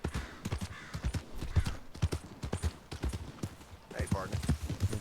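Horse hooves clip-clopping steadily in the Red Dead RP game, a brisk rhythmic trot of repeated close hoof strikes with talk running over them.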